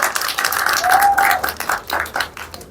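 Applause at a keynote address for a strategic plan launch, loud and close, with clapping that thins into separate bursts as it fades, and a brief tonal whine sounding over it.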